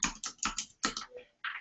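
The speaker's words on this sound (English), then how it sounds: "let me type in my password" Fingers tap a computer keyboard to enter a password, a quick close run of about nine crisp keystrokes in short uneven bursts with a brief pause before the last few.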